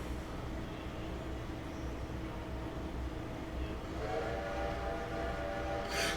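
Train whistle in the Railroader video game, a sustained tonal blast rising over steady rumbling train noise near the end.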